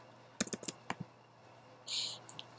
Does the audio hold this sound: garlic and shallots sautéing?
no